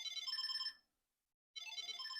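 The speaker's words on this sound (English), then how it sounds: "push play, and it should play that same tone as good I'm selecting" A Samsung SmartTag 2 tracker plays its selected ringtone, a bright, chiming electronic melody heard close and alone, breaking off briefly before starting again.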